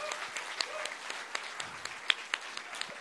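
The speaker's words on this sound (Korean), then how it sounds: "박수 좀 다시 한번 해주세요." A sparse, quiet round of applause at a provincial government monthly staff assembly, with a scattering of individual claps at a moderate distance, and no one talking over it.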